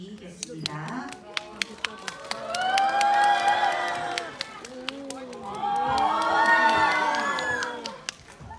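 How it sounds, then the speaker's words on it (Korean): A cinema audience at a stage greeting for the Korean film 댓글부대 claps and cheers, with scattered sharp claps swelling into two loud waves of shrieks and whoops. "큰 박수"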